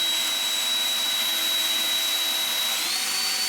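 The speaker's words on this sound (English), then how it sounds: "The blower is louder at about 92 decibels" AOETREE cordless leaf blower running at a steady, loud rushing roar with a thin high whine on top, constant throughout with no talk.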